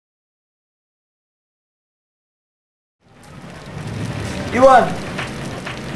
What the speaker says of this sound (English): Watching the raindrops falling on the ground.